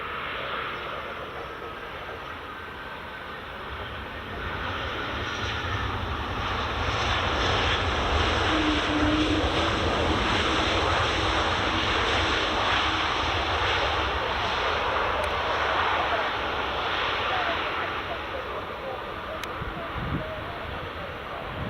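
An Air Baltic A220 (C Series) airliner arrives on runway 24 at Edinburgh Airport, its broad engine roar swelling steadily and holding loud for several seconds before easing slightly, heard from an outdoor spotting position with wind in the background.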